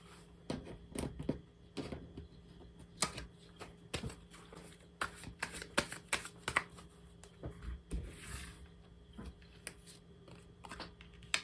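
Tarot cards are shuffled close up in quick, irregular bursts of crisp riffling and flicking, quiet and without talk.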